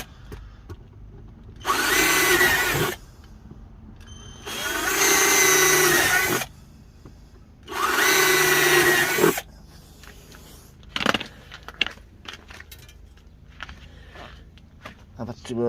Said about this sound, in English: All I'll do now is drill each corner and then cut round